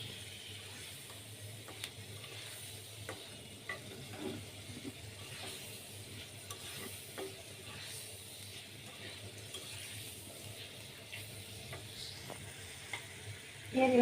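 Eggs frying in a pan give a low, steady, close-up sizzle with light scraping and clinking throughout, rising at the very end.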